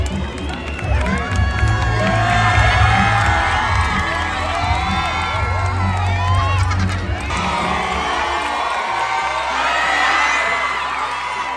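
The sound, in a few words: crowd of fans cheering and shouting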